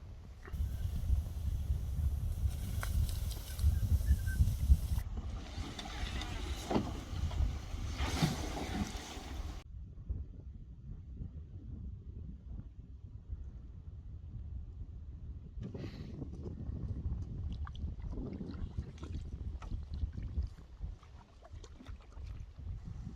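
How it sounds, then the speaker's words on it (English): Canoe paddling on a lake in Färnebofjärden National Park, with soft water swishes and paddle strokes against steady wind noise, faint and continuous throughout. "Very easy canoeing now."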